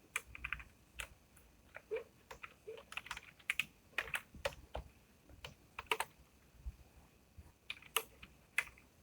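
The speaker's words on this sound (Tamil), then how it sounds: "ஃபர்ஸ்ட் இதில் வந்துட்டு என்னோடய பைத்தான் கோடை வந்து டைப் பண்ண போகிறேன்" Python code being typed on a computer keyboard: quick, irregular key clicks in uneven bursts with brief pauses, close and crisp against a quiet room.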